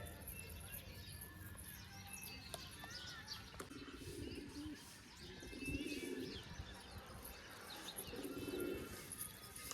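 Pigeons coo in soft repeated bursts, several low throaty calls amid faint chirping and background noise.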